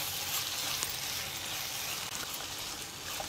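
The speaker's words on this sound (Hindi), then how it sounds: "इसे हमने मिला लेना है" Soya chunks soaked in a marinade being stirred into tomato masala frying in a pan for soybean sabzi, with a steady, close sizzle and faint scraping running the whole time and no voices.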